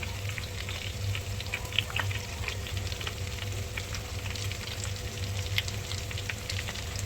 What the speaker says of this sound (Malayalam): ഫ്രൈ അപ്പോൾ ഏകദേശം വെന്ത് വന്നിട്ടുണ്ട്, ഫ്രൈ ആയി വന്നിട്ടുണ്ട്